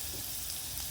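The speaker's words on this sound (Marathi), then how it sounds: "छान असं आपण हा ठेचा परतून घेऊया" Thecha, a coarse chili paste, sautéing in hot oil in a pan, giving a steady, soft frying sizzle with no talk over it.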